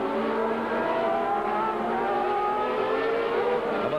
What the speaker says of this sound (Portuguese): Aí vem Senna na segunda volta.